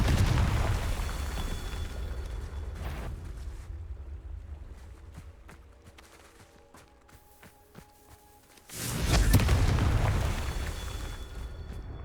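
Repeated Confringo explosion spells in Hogwarts Legacy: a heavy rumbling blast decays over several seconds with crackling debris, then a second loud explosive burst erupts and slowly fades.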